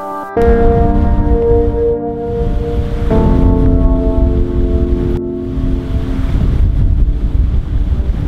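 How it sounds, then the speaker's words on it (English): Strong wind buffeting the microphone out on the water at Djurgarden among motorboats, a loud continuous rumbling roar with a steady tonal hum running beneath it, gusting in waves throughout without any voices. "Djurgarden, and it's very fucking windy"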